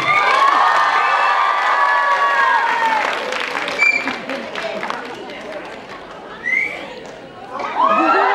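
A crowd at the grand finale of a married couples' event in Arunachal Pradesh claps and cheers, with loud whoops and high-pitched shouts rising over continuous applause and swelling again toward the end.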